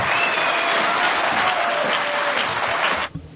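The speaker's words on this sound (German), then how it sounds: "Ein Applaus für Damian Lohr." Steady, loud applause from a large audience at an AfD political rally in Kirchheim-Bolanden, dense clapping holding for about three seconds before cutting off abruptly.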